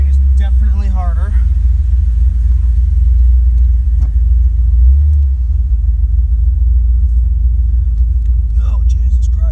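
A car with a manual steering conversion drives along, producing a steady low engine rumble and road noise throughout, with brief speech near the start and end.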